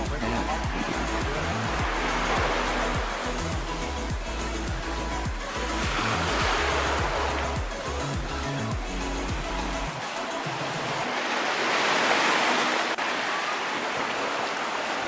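Waves washing onto a beach of the Gulf of Thailand at Cha-am, Phetchaburi, in a steady broad rush, swelling and easing a few times, close by with no clear talk.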